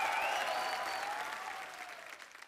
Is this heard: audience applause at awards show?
yes